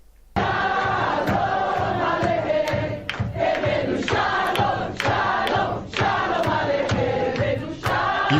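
A large crowd roars and cheers for Israel, a dense sustained wall of voices with repeated swells and sharp shouts rising out of it every second or so.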